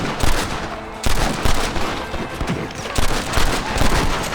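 Gunfire in a Red Dead Redemption shootout: repeated loud, close volleys of rifle and pistol shots in sharp bursts with brief gaps, layered over continuous battle noise.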